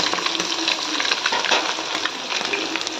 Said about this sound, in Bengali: আমার মেয়ে আবার বললো মা মাছ ভাজাই রাখো, সেই জন্য একটু কড়া করে ভাজছি